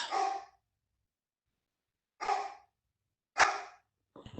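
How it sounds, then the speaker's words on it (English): A dog gives three separate barks with long silent gaps between them, close and clear in a quiet indoor room, and a fourth bark is cut off at the end. "I can't think when he barks like that."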